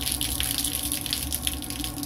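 Bad-tasting water is dumped out of a container outdoors, a continuous close gushing, splashing pour that stays steady and loud for the whole stretch with no talking.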